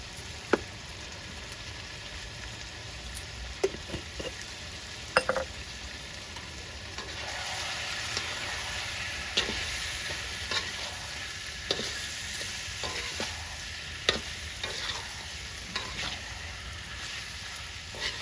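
Egg and chicken curry with garam masala fries in a pan, a continuous soft sizzle broken by scattered clicks and scrapes of a spoon stirring, steady and close with no talking.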